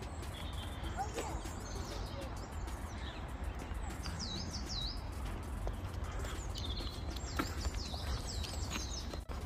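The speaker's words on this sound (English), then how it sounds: "Sonic, can you hear these birds?" Faint bird chirps and tweets repeat in the distance over a steady low rumble of background noise, scattered and intermittent.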